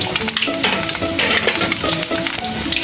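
Dense crackling sizzle of chicken frying in hot oil in a covered pan, loud and close, with faint scraping and soft tonal hums underneath.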